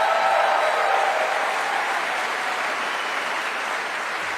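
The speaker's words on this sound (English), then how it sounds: "Give yourselves a round of applause." Audience at a grassroots political rally in Kalamazoo, Michigan, applauding: dense, steady clapping from a crowd that fades slightly toward the end.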